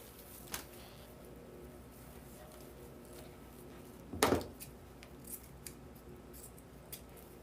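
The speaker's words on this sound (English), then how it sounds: "I bought new scissors." A single crisp snip of new scissors cutting ruffle wreath material, close and brief, with a few faint clicks before and after in a quiet room.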